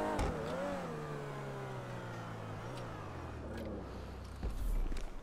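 Engine of a Vegner car driven in GTA 5, a steady mid-pitched drone with a falling rev pitch, running close and continuous with a brief louder surge near the end.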